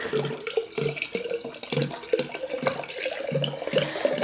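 Drinking water pouring into a container at home, a continuous splashing, gurgling stream, close and fairly loud, without a dispenser.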